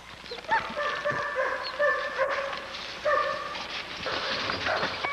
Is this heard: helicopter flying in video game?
no